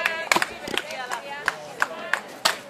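Audience at a firewood chopping contest at the Anianpelto market in Asikkala clapping in a steady rhythm, sharp claps recurring at even intervals under someone talking over a loudspeaker.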